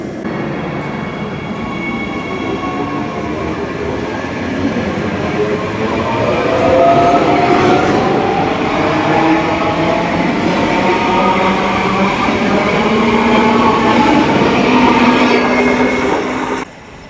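A train runs past Traveston railway station in Queensland with a loud, sustained rumble, rising in intensity midway, with squealing wheel tones and faint rail clatter before cutting off abruptly.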